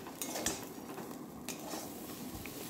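Pointed gourd peel paste with a splash of raw oil is stirred in a pan, giving soft scraping and light clinks over a low sizzle, fairly close and without talk.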